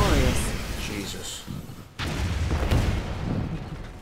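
Heavy cannon blasts from Athena cannons in Red Alert 3 with the Advanced mod, in strategy gameplay, a few loud booming shots with rumbling decay amid battle noise, with a game voice line in the mix.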